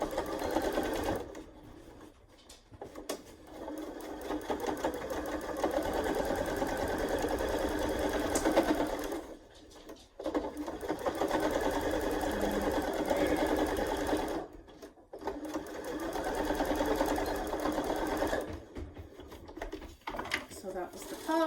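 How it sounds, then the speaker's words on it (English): A sewing machine top stitching runs in fast, steady bursts of rapid mechanical whirring and needle clatter, stopping briefly several times between runs, close and continuous with faint voice underneath. "So I'm going to top stitch this really fast."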